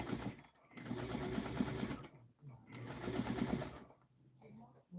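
A sewing machine stitching fabric during a stashbusting quilt project, running in two steady, close bursts with brief pauses between them and faint background sound.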